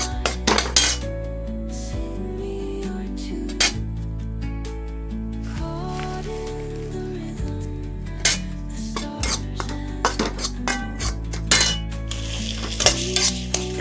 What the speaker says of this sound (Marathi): मैदा पटकन भाजतो रव्यापेक्षा सारखा हलवत राहायचा आहे